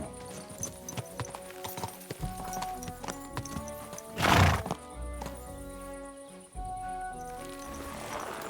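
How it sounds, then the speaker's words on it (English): A horse in Kingdom Come: Deliverance 2 clip-clops in a steady galloping rhythm, loud and close, with a sharp whinny bursting out midway and game music and ambience running underneath. "I gotta get used to like what the difference is between the canter and the gallop on this horse"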